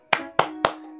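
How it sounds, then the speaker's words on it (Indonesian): Children's rhythmic clapping game in a classroom: three sharp, evenly spaced claps in quick succession, close and crisp. "kita tepuk semangat yuk"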